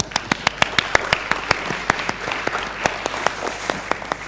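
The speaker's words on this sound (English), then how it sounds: "From the applause that I heard supporting your question" An audience at a law conference special address on restoring faith in the judiciary claps; sharp individual claps land in a quick, uneven rhythm over a steady hall murmur, with no voice over them.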